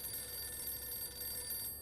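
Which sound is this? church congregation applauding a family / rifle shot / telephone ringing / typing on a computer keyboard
telephone ringing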